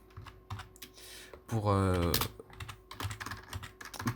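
Computer keyboard typing while writing JavaScript code for a Discord bot, light rapid key clicks in irregular bursts, with someone speaking over the middle of it.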